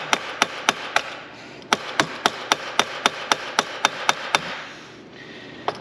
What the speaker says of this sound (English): Plastic hammers become your friend for some reason when you're working on quads.